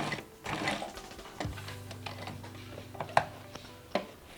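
A sewing machine runs steadily, stitching a notched shirt collar with a continuous mechanical whir. Its pitch shifts near the end as the stitches are locked with short bursts and sharp clicks.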